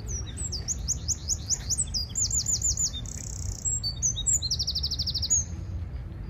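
Quick, repeated songbird phrases ring out on a Paris morning beside blossoming cherry trees, with clear chirps and rapid trills coming close and distinct over a soft background hum and no talking.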